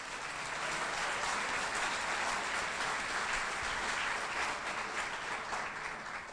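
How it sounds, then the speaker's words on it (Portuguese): A church congregation applauds during a Portuguese-language evening worship service, a broad, even wash of many hands clapping that holds steady from start to finish, slightly distant and without speech. "Aplauda o Senhor"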